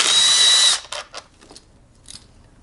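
A power tool whirs briefly as it removes 8 millimeter heat shield bolts on a GY6 Ruckus scooter, followed by a few faint clicks and clanks of metal.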